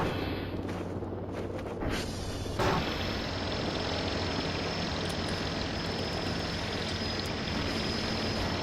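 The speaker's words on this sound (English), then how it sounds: "Alright, get out of here, drone. You're too noisy." Drone hovering in the game Voices of the Void gives a loud, continuous whirring rotor-like roar that swells up abruptly and holds steady, close by.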